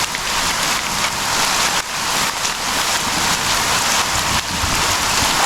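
Steady, dense rain pours down outdoors during a hike through a fossil canyon after hail has stopped, a constant close hiss with slight surges and no voices.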